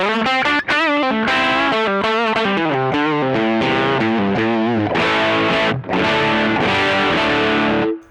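Distorted electric guitar through a Bogner Ecstasy Blue overdrive pedal plays a busy melodic riff with bright, crunchy overdrive, loud and continuous with brief pauses.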